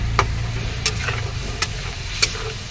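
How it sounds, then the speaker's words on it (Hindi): Masala fries in oil with onion, garlic and chili for a chicken curry, a steady close sizzle broken by regular sharp clicks of a spoon scraping the pan. "अब मसाला को बढ़िया से प्याज लहसुन मिर्चा के साथ में, तेल के साथ में बढ़िया से मसाला को भी बढ़िया से फ्राई करेंगे।"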